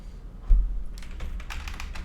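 A fastboot command being typed on a computer keyboard, a quiet run of quick soft key taps following a low thump, fairly close and with no talk.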